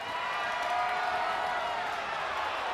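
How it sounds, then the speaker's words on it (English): Crowd cheering in the WWE 2K25 wrestling video game, a steady, dense roar of arena noise that holds throughout without a break. "really feeding off this crowd"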